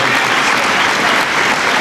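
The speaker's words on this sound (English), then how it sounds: "Big round of applause for Bernie, please, ladies and gentlemen." Audience applause for Bernie at an evening event in Brisbane, a brief, dense and loud burst of continuous clapping with no gaps.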